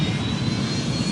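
Airliner jet engines spool up for takeoff in the flight game Airline Commander, a steady, loud, close roar that holds at an even level throughout with no voices.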